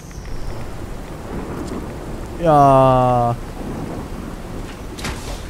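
Steady rain hisses in the wasteland of Fallout 4, with a low rumble beneath and a brief tonal swell midway, while a voice speaks briefly.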